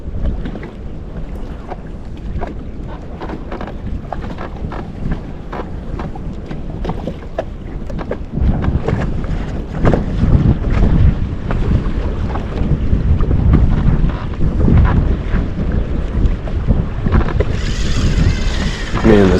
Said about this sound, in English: this wind is just brutal